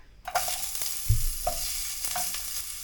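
Ginger drops into hot oil in a wok and sizzles, with a few sharp scraping stirs of a utensil against the pan at intervals and a steady frying hiss throughout, close and fairly quiet.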